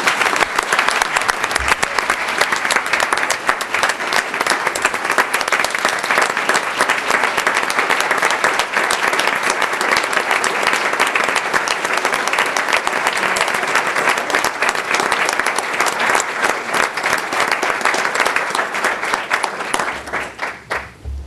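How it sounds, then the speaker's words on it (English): A large crowd applauds loudly and continuously for about twenty seconds, dense even clapping that fades only at the very end. "Please give our principals a big round of applause."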